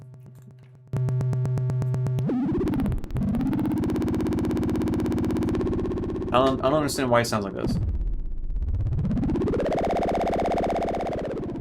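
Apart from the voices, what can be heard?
Zebra 3 synth tone wavefolded, crazy vibrato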